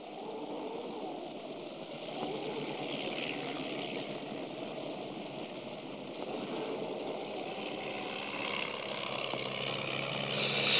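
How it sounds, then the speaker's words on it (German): A propeller airplane drones overhead in a 1950 mountain film, a steady engine hum that grows gradually louder toward the end, with no voices. "So ein Flugzeug."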